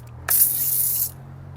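A Simoniz cordless foam cannon sprays snow foam onto a bike in one loud, steady hissing burst lasting under a second, with a low motor hum running underneath throughout.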